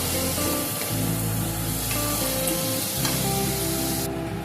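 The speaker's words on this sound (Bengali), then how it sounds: "দিয়ে আমি মশলাটাকে ভালো করে কষিয়ে নেব" Spice masala with sugar sautés in a pan with a steady, close hiss of sizzling and occasional soft stirring, continuous and even throughout.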